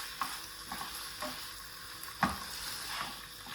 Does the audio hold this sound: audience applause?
no